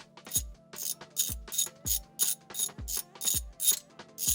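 A socket ratchet clicks in a steady, close rhythm while loosening a bolt on a Porsche shift arm, roughly a dozen crisp ratcheting strokes with brief pauses between them.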